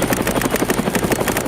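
A helicopter over São Paulo, its rotor thumping in a fast, steady pulse, loud and close, with no voices.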